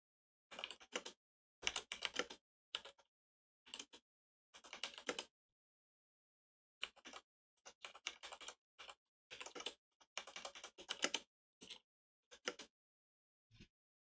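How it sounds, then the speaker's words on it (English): A clicky computer keyboard is typed on in quick bursts of keystrokes separated by short pauses, heard close by and fairly quiet, with no voices. "I'll move my mic away from my keyboard, so maybe less clicky"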